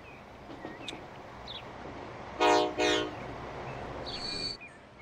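A double-decker train moves off with a low rumble of wagons, punctuated mid-way by two loud horn blasts and later a shorter high tone, with birds chirping faintly in the background.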